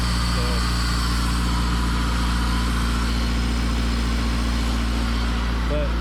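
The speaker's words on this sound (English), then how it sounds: "It's got that K-series high idle" A K-series engine swapped into a car holds a steady, loud high idle with a constant low hum and a faint whine above it. The drone runs unbroken throughout, and voices can be heard faintly.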